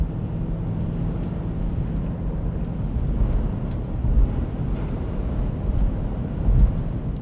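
A 2006 Toyota 4Runner on Firestone Destination X/T tires pushes through slushy winter road, with a loud continuous low roar of tire and road noise that swells slightly midway, no voices.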